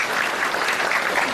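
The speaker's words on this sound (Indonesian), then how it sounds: "Tepuk tangan dulu ya" Audience applause at a spiritual talk, a steady dense patter of many hands clapping throughout, fairly loud and without voices over it.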